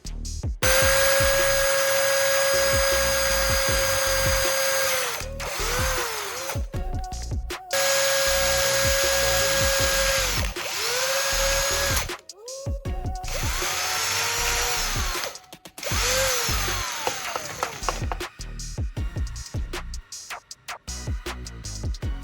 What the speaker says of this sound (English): I will drill 2 small holes in the upper part of the charger casing